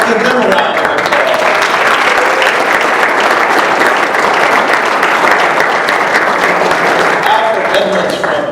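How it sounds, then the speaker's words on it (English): A large audience applauds steadily and loudly at a panel session on Black fatherhood, dense clapping running the whole way without a break and easing slightly at the end. "Let's give them a round of applause."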